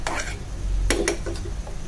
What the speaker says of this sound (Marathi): छान चांगलं 2 ते 3 मिनिटं परतून घ्या